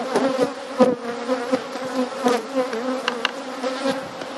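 A colony of bees in a top bar hive drones with a steady, close buzz throughout, with no talk over it.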